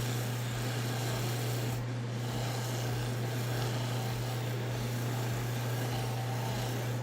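Acrylic orthodontic retainer buffed with pumice on a lab polishing wheel, a dense continuous rubbing hiss over the steady hum of the motor, close and unbroken for the whole stretch.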